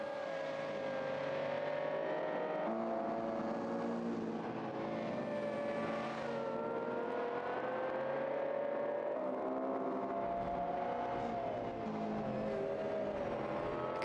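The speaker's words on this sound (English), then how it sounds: "You can hear the hum of the turbochargers." Onboard a GT World Challenge race car at the Belgian Grand Prix, a steady engine drone with a higher hum of turbochargers, the pitch shifting gradually as the car runs, fairly faint.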